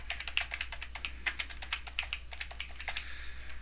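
Rapid keystrokes on a computer keyboard as a longer, more descriptive name is typed into a payroll withholding form, a steady close run of light clicks with no talk.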